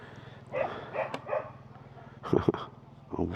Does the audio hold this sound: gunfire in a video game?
no